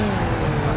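Engine roar of a racing car in Project Gotham Racing 2, a street racing video game, holding a loud, steady drone with no break through the short moment.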